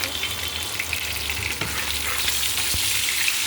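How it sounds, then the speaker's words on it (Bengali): Fish sizzles steadily in hot oil in a pan, a dense, even frying hiss that runs close and constant throughout with a couple of brief crackles, no voices. "মাছ ভাজা হচ্ছে"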